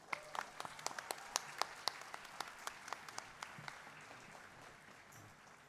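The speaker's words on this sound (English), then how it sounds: "Let's give them another round of applause" Scattered applause from an audience at a 2018 university event after a band performance: distinct, moderately distant claps in an uneven rhythm that grow denser, then thin toward the end.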